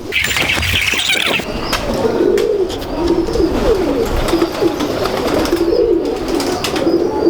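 Pigeons coo in a loft, with soft repeated low cooing phrases close by, a brief higher chirping near the start and faint wing flutters.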